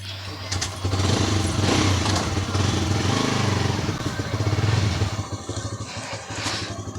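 A CNG-converted motorcycle, kick-started and riding off on a long road trip, drones steadily with a low engine hum that swells and holds, with people talking over it near the start.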